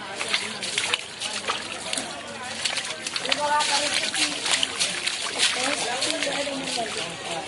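Rainwater from the first monsoon downpour floods a narrow residential lane, overflowing the gutter into homes; continuous splashing and sloshing with voices talking over it throughout.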